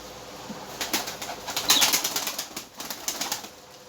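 Pigeons flap and flutter their wings in repeated bursts over a steady background hiss, with birds close by and no talking.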